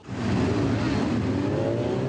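Many motorcycles of a large biker convoy rev their engines together at a mass start on the Samotlor oil field, a loud continuous engine roar with rising tones, no voices.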